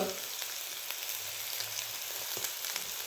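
A pinch of asafoetida drops into a hot pan already holding green chilli and garlic, a steady close frying sizzle with small crackles and pops throughout.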